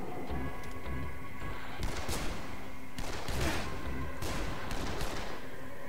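Gunfire in the zombie game Dead Island, a dense, continuous fight with several sharp bursts over heavy noise, loud and close.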